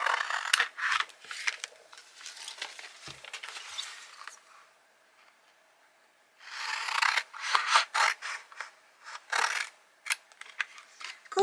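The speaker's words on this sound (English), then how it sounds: "I'm just going to use a pair of scissors for that." A pair of scissors cutting vinyl, giving quiet, close snipping and rasping strokes in two bursts separated by a short pause, with no talking.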